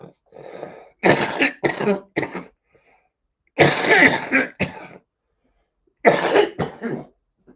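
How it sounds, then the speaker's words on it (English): Harsh coughing comes in three close, loud bursts, each a quick cluster of two to four coughs separated by brief silences. "I had a quick coughing fit."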